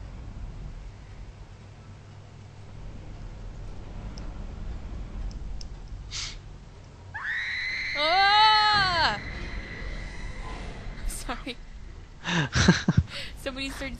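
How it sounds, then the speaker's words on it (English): Screams from a player during a session of the horror video game Dead Space: a loud, wavering high-pitched yell lasting about two seconds, then sharper shrieks and clicks near the end, over low game background noise. "Somebody started screaming."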